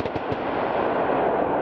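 Dense, rolling rumble of distant gunfire at Russian airborne forces training in Pskov region, firing at a moving target 1.5 kilometres away, sustained and booming without clear separate shots, with a couple of sharper cracks early on.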